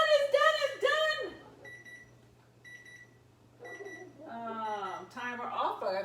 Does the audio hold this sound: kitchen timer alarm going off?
yes